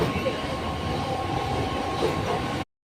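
A suburban train in Mumbai rumbles steadily along with a continuous roar and faint rattling, then the sound cuts off abruptly.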